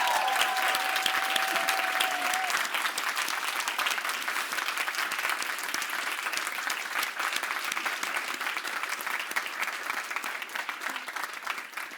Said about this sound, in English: an applause for the 2023 Solver class.